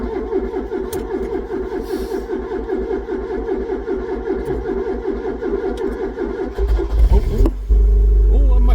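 A Ford Cortina with the P100 engine, unused for seven months, cranks over with a rapid rhythmic starter churn for several seconds, then catches and settles into a loud, close running rumble.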